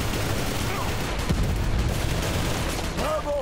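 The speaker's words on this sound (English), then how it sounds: "Who is shooting me?" Gunfire aimed at the player in the video game Inversion: dense, continuous rattling shots and booms in a noisy firefight, loud and sustained, with a few whistling tones toward the end.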